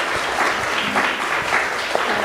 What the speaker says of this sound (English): We can give her a round of applause